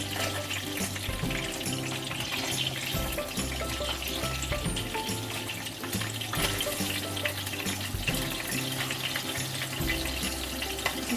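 Fish pieces fry in a pan of hot oil for a fish curry, a steady dense sizzle with faint crackles and stirring, continuing for several seconds with no talking.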